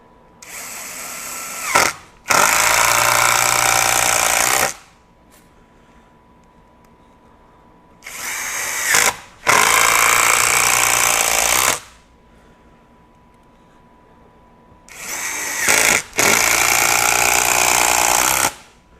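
RIDGID 18V SubCompact power tool running in speed mode 3: three loud, close bursts of rattling, hammering drive of a few seconds each, with brief spin-ups and quiet pauses between them.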